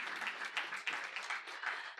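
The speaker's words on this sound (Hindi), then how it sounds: "हमारे साथ तालियाँ बजाते रहो भाई" Audience applause at an influencers' meet at the Madhya Pradesh Travel Mart 2025, a steady wash of many hands clapping, fairly faint and continuous for two seconds with no talk over it.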